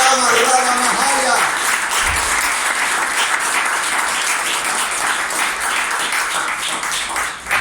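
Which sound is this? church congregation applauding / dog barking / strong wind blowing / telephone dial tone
church congregation applauding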